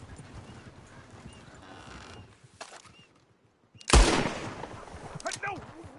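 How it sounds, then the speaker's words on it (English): Horses in a PS4 video game, hooves and neighing amid a busy game mix with bursts of gunfire, a loud crack near the middle, and someone talking over parts of it. "Oh, shit, the horses! Damn horses!"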